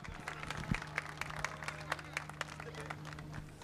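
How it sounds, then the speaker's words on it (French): Applause at an outdoor prize ceremony in Abreschviller as a class winner is honoured: a crowd claps steadily and evenly for the whole span, fairly distant, over a constant low hum. "Merci, les applaudissements pour Arnaud Chollet, vainqueur de la classe DE5S."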